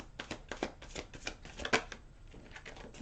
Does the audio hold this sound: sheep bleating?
no